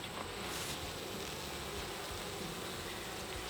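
Honey bees in a beekeeper's nuc hive give off a steady, faint, continuous buzzing hum that holds evenly throughout with no break.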